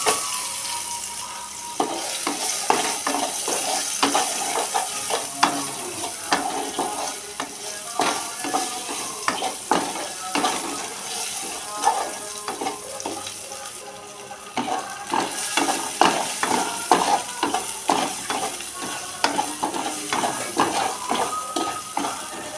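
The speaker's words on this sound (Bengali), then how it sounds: "ওই তেলেই এক এক তেজপাতা শুকনো লঙ্কা পাঁচফোড়ন কেটে রাখা পেঁয়াজ" Bay leaf, dried red chilli, panch phoron and chopped onion fry in hot oil for a bitter gourd dish, a loud, close, sustained sizzle broken by frequent spatula scrapes and clinks against the pan, steady throughout with no speech.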